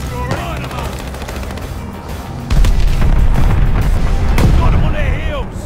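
Bombing-run explosions and rapid gunfire in the Call of Duty: Vanguard multiplayer shooter, a loud, dense barrage of booms and shots kicking in partway through and continuing under in-game voice callouts.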